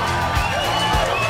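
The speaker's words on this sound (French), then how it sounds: "Vous pouvez tous applaudir très fort" A studio audience at a quiz show applauds and cheers loudly, a dense and steady wash of clapping and whoops that fills the whole moment.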